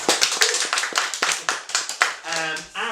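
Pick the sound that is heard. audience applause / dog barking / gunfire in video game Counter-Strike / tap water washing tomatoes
audience applause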